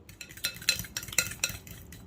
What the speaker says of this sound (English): we are going to go ahead and mix this all together till it's all the way beaten